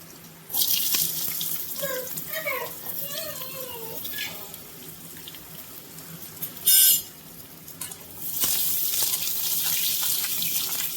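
Hog plums drop into hot mustard oil and are stirred, with a loud, steady sizzle throughout, a brief sharp flare partway through, and the frying growing louder again near the end; a faint voice briefly comes through.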